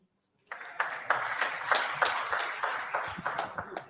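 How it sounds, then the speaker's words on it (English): After a short silence, a small gathering at a court session breaks into clapping: distinct, fairly close handclaps in an uneven rhythm, loud at first and thinning toward the end. "Clap for me."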